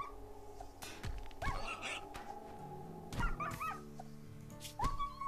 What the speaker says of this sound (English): My poor doggy.